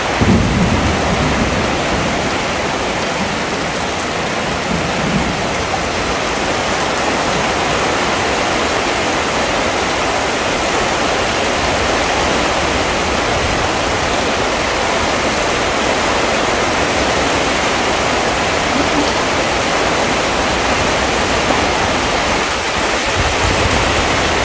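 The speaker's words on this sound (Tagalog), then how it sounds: "Yan ang kagandahan talaga pag may ulan." Heavy rain pours down steadily on a backyard garden, a dense, loud, continuous hiss with a low rumbling undertone, no voices.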